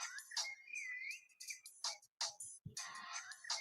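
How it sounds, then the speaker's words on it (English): A melodic phone ringtone from an incoming call plays a bright, warbling tune in repeated phrases with short gaps, clear and fairly close, with no voices over it. "It's a nice ringtone."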